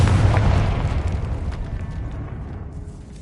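A Confringo spell blast in Hogwarts Legacy, a loud, close explosion that booms at once and then fades slowly into a rumbling tail.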